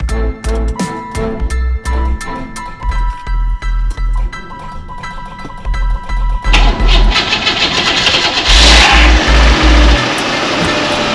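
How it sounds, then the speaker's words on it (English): A car engine cranks in repeated loud, rhythmic bursts after a jump start following a Minnesota winter, then fires and roars up into a revving run, loud and close. "We started 4 cars here today"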